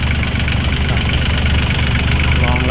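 Kubota L3408 tractor diesel engine running steadily at idle, a dense continuous knocking rumble close by with no break throughout.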